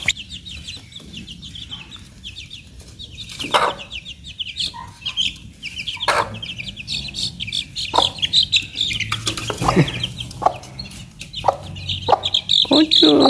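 A hen with her chicks clucks close by in a village yard. Her low clucks come in short bursts over high, steady peeping from the chicks, with a few light knocks and shuffles.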